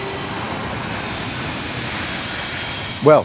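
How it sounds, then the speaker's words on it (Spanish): Low-flying airplanes near Rome Fiumicino airport produce a loud, continuous engine roar that fills the whole stretch, with a brief louder swell right at the end. "Los aviones vuelan tan bajo que a veces es imposible oírse uno mismo"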